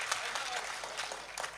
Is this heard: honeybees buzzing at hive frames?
no